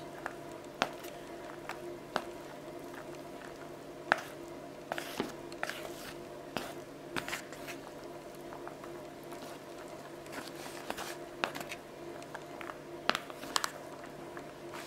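U.F.O instant yakisoba noodles are stirred together with their toppings, a faint run of sticky, wet squelches and soft clicks at close range, irregular and quiet, with no talking.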